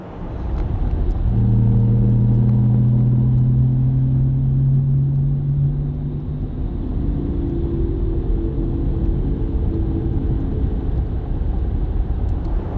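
Synthetic driving sound of a Mercedes-Benz EQS 450+ AMG Line electric car in its Silver Wave setting: a smooth, steady tonal hum that slides upward over a low rumble, continuous and fairly loud inside the cabin.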